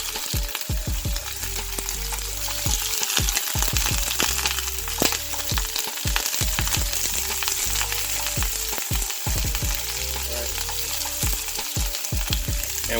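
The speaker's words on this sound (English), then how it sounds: "we're gonna take these lobster tails and give them a quick sear" Lobster tails sear in a thin film of oil in a hot skillet, giving a steady, loud sizzle with frequent sharp pops and crackles throughout, and no voices.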